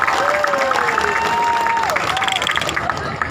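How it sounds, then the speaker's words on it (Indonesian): Crowd of residents clapping and cheering at an outdoor neighborhood inauguration event in Kampung Gembira Gembrong, steady dense applause throughout with voices mixed in. "Tepuk tangan buat kita semua."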